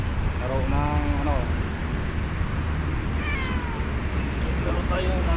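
A cat meows a few times outdoors at a seaside fishing spot along the corniche in Abu Dhabi, faint cries under steady wind and water noise, with someone talking nearby.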